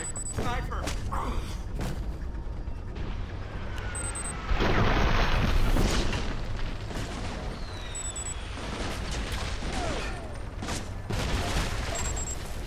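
Gunfire from a sniper in the Alpha Protocol video game cracks in bursts under game noise and a busy mix of explosions and shots, with people talking over it.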